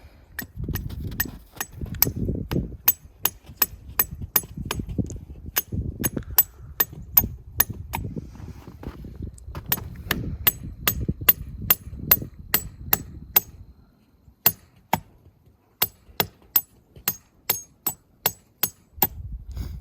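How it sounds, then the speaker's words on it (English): Sharp metallic hammer strikes in steady series as a sap tap is driven into a maple tree, some pauses between runs, over low rumbling background noise. "I'm really bad at hammering."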